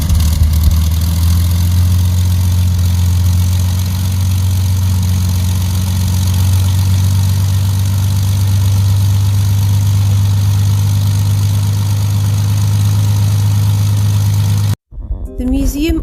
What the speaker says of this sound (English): It allows you to experience how loud engines used to be in the past.